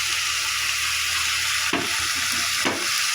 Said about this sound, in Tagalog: ilalagay ko na ang ating patola